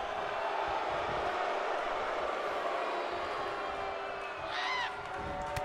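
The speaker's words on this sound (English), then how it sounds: "The crowd's enjoying this early morning match, ladies and gentlemen." Crowd at a World Class Wrestling early morning match: a sustained roar of cheering with a whoop rising near the end, while a commentator talks over it.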